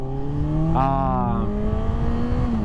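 A 2025 Honda CBR600RR motorcycle under way, its engine droning steadily and close, with a rising rev sweep near the start that settles back into a sustained drone amid wind rush.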